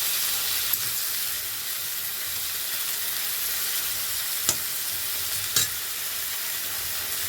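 Tomatoes fry with onion paste and potatoes in a pan, giving a steady, even sizzle and hiss with a few faint stirring clicks and nobody talking.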